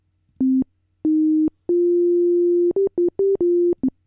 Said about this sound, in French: si je vous fais écouter cet oscillateur E tout seul, ça donne ça. Il est aussi en sinusoïde.